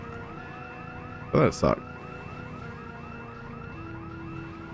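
A house alarm in the Project Zomboid video game wails in a steady, repeating electronic siren cycle under the game's sounds, with a short burst of speech partway through.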